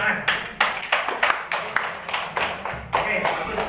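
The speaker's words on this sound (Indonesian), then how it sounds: "Tepuk tangan." A classroom of students claps together in a teaching-practice lesson, a steady run of quick, close hand claps lasting several seconds with slight rhythmic pulsing.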